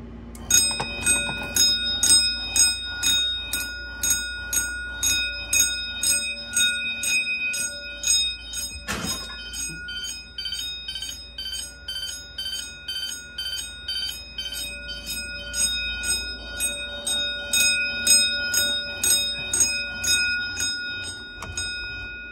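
A Wheelock electric fire alarm bell rings continuously with a fast metallic clatter, loud and steady, with one sharp knock partway through.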